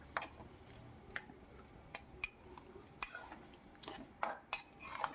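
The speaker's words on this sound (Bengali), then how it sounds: "আলুগুলোকে দিয়েও আমি বেশ ভালো করে একটু নাড়িয়ে চাড়িয়ে কষিয়ে নিচ্ছি" A utensil stirs fried potatoes into mutton keema in a pan, making soft, scattered metallic clicks and scrapes at an uneven pace, close but faint over a low hiss.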